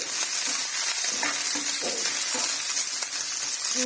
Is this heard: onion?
yes